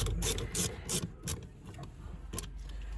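Screws being driven back into the dashboard of a Peugeot 508 during a display screen refit, heard as a few short close ratcheting bursts followed by quieter mechanical clicks.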